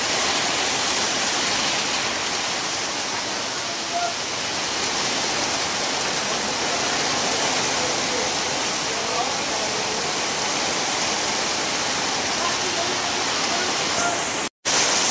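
Very heavy rain pours steadily and loudly during a downpour in Maheshkhali, a dense, unbroken hiss from start to finish, with a brief dropout near the end.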